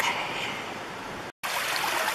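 River water runs along a cut bank with exposed tree roots on the Indian River Trail in Sitka, a steady broadband rushing wash that drops out briefly near the middle before resuming.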